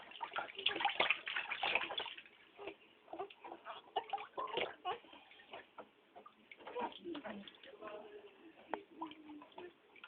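A baby being bathed by her grandmother: irregular water sloshing and splashing in a tub, close and fairly soft, with someone talking softly throughout.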